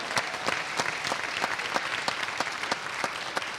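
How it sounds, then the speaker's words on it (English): A theater audience at the Sedona Performing Arts Center applauds the Mary Fisher Theater team, steady crowd clapping with a few sharp, rhythmic claps standing out, a little distant and without talk. "Nice round of applause for this glorious,"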